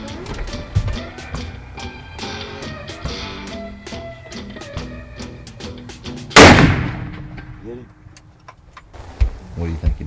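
A single rifle shot is fired at a deer during a hunt, a sharp loud crack that rings out and decays over about a second. Quiet speech and background sounds come before it, and voices return afterward.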